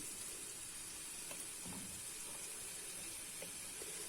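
Onions frying in a pan for Turkish spinach with rice, a faint but steady hissing sizzle that runs unbroken throughout, with a few soft clicks beneath it.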